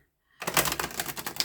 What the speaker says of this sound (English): I'm going to give these a good shuffle